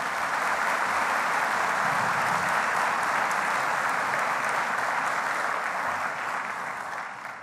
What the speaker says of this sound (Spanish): pido a todos ellos, para todos ellos, un aplauso